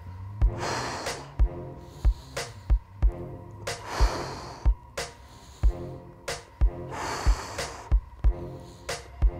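Heavy breaths out and in keep a steady rhythm through abdominal crunches in a workout, with sharp bursts of exhalation repeating close to the microphone, paced under regular soft thumps and no one talking.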